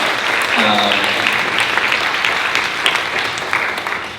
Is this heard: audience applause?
yes